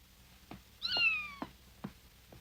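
A kitten gives a single clear, rising-then-falling meow, close and fairly quiet, with a few soft knocks and shuffles around it.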